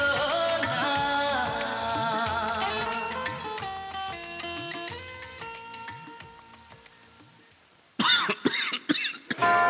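After a short musical jingle fades out, a person coughs several times, close and sharp in quick succession, in a public health announcement about coronavirus.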